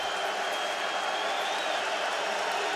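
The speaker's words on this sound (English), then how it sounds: "the crowd whooping it up here in Charlottesville" A college football crowd at Florida State vs Virginia in Charlottesville makes a steady, distant roar of cheering, a continuous hiss-like wash of noise at moderate level under a whistle-like tone.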